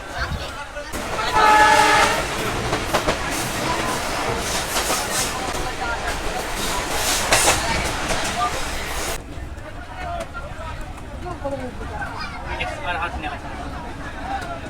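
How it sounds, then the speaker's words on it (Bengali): Mongla commuter train pulling away from a station, a loud rumbling clatter with a strong horn-like tonal blast early on, then a steadier rolling rumble as it moves off, with a crowd's babble mixed underneath. "আমাদের ট্রেন ছেড়ে যাচ্ছে তার পরবর্তী স্টেশনের উদ্দেশ্যে"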